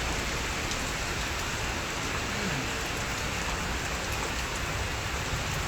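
Steady, dense rain falls continuously and close, a constant hiss of drops on surfaces with no pauses or other sounds.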